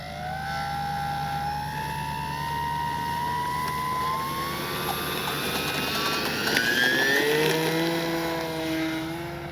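E-flite Gee Bee R2 RC plane flying outdoors, a steady electric motor whine with gliding pitch changes as it passes, moderately distant and continuous for about nine seconds.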